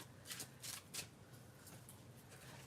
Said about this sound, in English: I have to shuffle cards